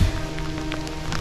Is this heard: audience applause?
no